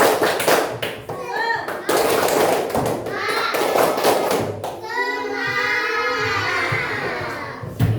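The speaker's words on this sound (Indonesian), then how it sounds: "Tepuk semangat." A group claps in rhythm during a classroom ice-breaker clapping game, sharp hand claps in patterned bursts, with children's voices chanting and singing along.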